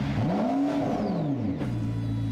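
A car engine revs in the Roblox Driving Empire game, a loud close whine that rises and falls in pitch over a couple of seconds, alone without talk.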